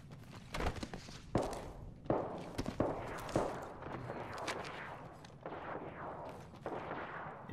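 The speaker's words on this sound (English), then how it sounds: "I can hear some gunshots." Gunfire in a PlayStation 4 battle-royale shooter, a series of sharp, loud cracks and thuds at irregular intervals over a continuous background of game noise.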